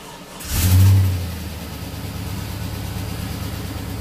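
A Chevrolet Silverado that has sat for seven months cranks and catches with a sharp rev, then settles into a steady, close, low idle.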